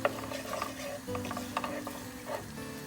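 Chopped onion sizzling and frying in hot olive oil while being stirred, with soft scraping of a utensil against the pan.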